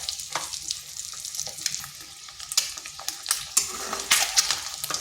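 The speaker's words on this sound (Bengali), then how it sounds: "দুই পাশটা এরকম একটু লাল লাল করে ভেজে নিচ্ছি।" Eggs frying in oil in a pan, a close, lively sizzle with repeated stirring and scraping clicks, getting busier toward the end, no voices.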